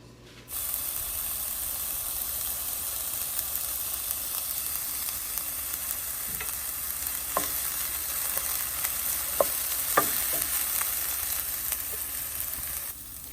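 Onions sweating in a pan over medium heat give a continuous even sizzle, with a few faint scrapes and clicks of stirring scattered through, close and steady with no voices.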